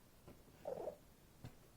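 A house cat gives a short, soft chirping meow in a quiet room, close by, with faint low purring and small taps around it.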